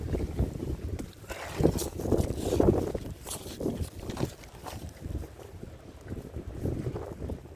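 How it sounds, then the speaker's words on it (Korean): Strong gusting wind buffets the microphone outdoors on a fishing trip, rising and falling in uneven rumbling bursts with no speech. "바람이 심해가지고요"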